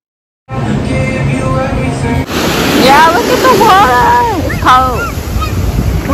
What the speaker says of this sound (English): the waves are pushing me